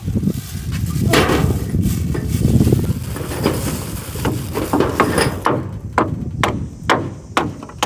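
Hammering nails into corrugated metal roof sheeting on a house; a dense run of blows under a rumbling background gives way to a series of sharp, evenly spaced hammer strikes, close and loud.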